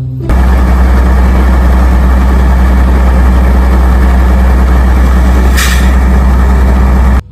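A toy tow truck's engine sound drones at a steady idle, loud and close, with a constant low hum and one brief hiss partway through.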